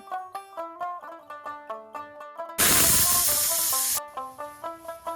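A pressure cooker on a gas stove, cooking koi fish wrapped in gourd leaves, lets out a loud burst of hissing steam for about a second and a half. Steady, rhythmic music plays before and after the burst.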